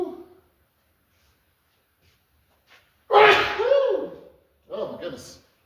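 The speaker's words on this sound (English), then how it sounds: "Big time sneeze" One big, abrupt sneeze bursts out after a quiet stretch, followed by a voice and another short vocal outburst, close and loud.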